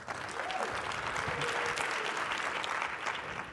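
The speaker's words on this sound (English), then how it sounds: "You can applaud." Audience applause at a conference session, a moderate wave of clapping from a seated crowd that holds steady, then begins to thin toward the end.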